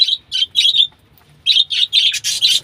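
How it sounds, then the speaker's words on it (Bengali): Small caged birds moved into a breeding colony chirp loudly and close by, in quick bursts of bright repeated tweets separated by a short pause. "এই যে কলোনির পাখিগুলো, আমাদের বাসার যে ব্রিডিং সেটআপগুলো ছিল সেইগুলো সব কলোনিতে আনছি।"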